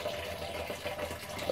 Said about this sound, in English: let's pour some of this excess liquid back into the cup